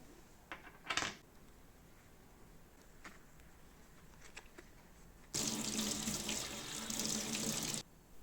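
Tap water runs steadily into a sink for about two and a half seconds, rinsing small gun-blued steel longsword parts; faint clicks and handling knocks come before it.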